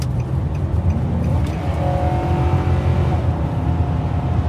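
A car on a work road trip in early February, cruising down the road with a steady close engine and tyre rumble plus a faint rising whine, no talk.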